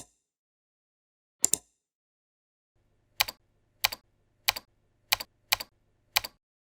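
Computer keyboard keys tapped one at a time as a mobile number is entered, seven sharp, close clicks spread out with pauses between them in near silence.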